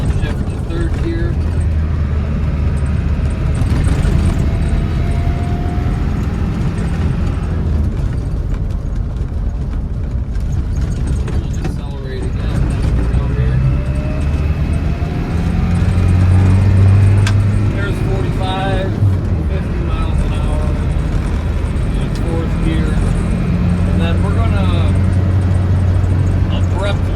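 A 1992 Land Rover Defender 110 with the 200Tdi diesel drives uphill through bends at about 40 mph, its loud engine droning inside the cab and changing pitch as it downshifts, with someone talking over it.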